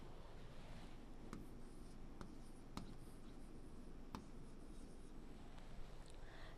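Chalk or a marker writes an answer on a classroom board as faint, sparse taps and light scratches under a steady background hiss, with no talking.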